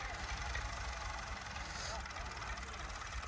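A tractor engine idling on a rural property where goats graze, a steady low rumbling drone that runs evenly through the clip, with a voice talking over it.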